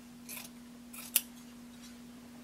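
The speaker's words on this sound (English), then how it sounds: "you can just trim your seam allowance to a 1/4 inch" Scissors trim a fabric seam allowance on a sewn hooded tunic: two soft cutting strokes, then one crisp close snip, against a quiet hum with no talking.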